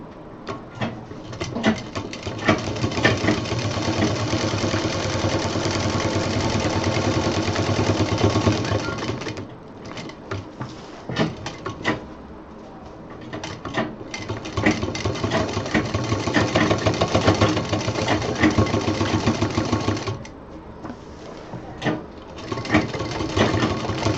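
A sewing machine stitches fabric for a handmade baby diaper bag in long continuous runs, a rapid mechanical whirring that stops briefly several times before starting again, loud and close.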